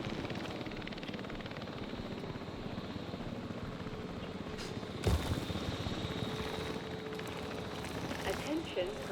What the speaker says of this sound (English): Please stand by for the returning helicopter.